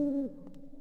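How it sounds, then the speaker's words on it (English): An artificial owl in the video game Blade Runner gives a single low, smooth hoot, clear and close, trailing into quiet background ambience. "Do you like our owl?"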